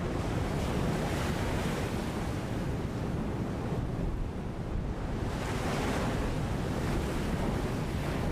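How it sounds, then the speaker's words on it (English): Ocean waves crash in stormy weather beside a golf course while strong wind buffets the microphone, a loud, continuous roar of surf that swells and eases with no voices. "In stormy weather, crashing waves and strong wind send salty seawater up onto the golf course."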